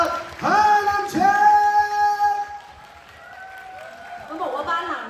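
Bursts of audience applause and cheering at a Harlem Shake dance showcase come in waves over a loud, sustained tonal voice or music line, fading midway and swelling again at the end.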